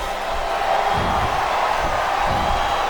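A wrestling arena crowd in the WWE SmackDown vs Raw 2008 video game roars and cheers in a continuous, dense wash of noise, with commentary voices faintly mixed underneath.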